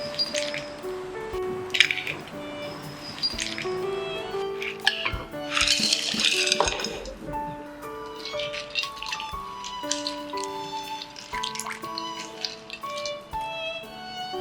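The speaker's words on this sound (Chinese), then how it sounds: "我们把花甲、胭子和花螺也清洗几遍" Clams and sea snails being washed by hand in water, with wet squishing, sloshing and the clink of shells knocking together in irregular bursts, fairly quiet and close.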